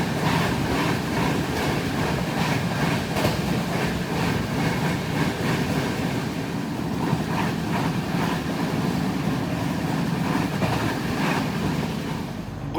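The 12496 Pratap Superfast Express runs overnight from Kolkata toward Bikaner, heard from inside as a loud, continuous rumble of wheels and carriage with faint rhythmic clatter and no pauses.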